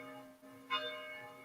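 Bells ring at a distance, a sustained tonal ringing with layered overtones and a brighter strike about halfway through, fairly faint and with no voices over it.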